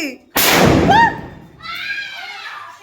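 A loud atom bomb firecracker blast bursts suddenly during Diwali celebrations, followed by a ringing, fizzing tail, then voices talking excitedly in the background.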